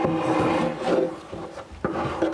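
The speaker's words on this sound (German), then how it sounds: "dass ich den überschüssigen Leim wegkratze, damit er die Schleifbänder von der Schleifmaschine nicht zusetzt." A handmade glue scraper rasps excess glue off a wooden tabletop in a woodworking shop, a continuous close scraping and rubbing with a few sharper strokes near the end.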